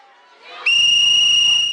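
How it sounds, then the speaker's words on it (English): A whistle blown into a microphone at a campus protest sounds as one sudden, piercing, sustained blast, loud and close, over faint crowd noise. "blowing a whistle into a microphone is the most compelling argument you've presented thus far."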